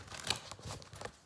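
Tarot cards shuffled by hand, a quick run of crisp papery riffling and slapping, close and moderately quiet, with no voices.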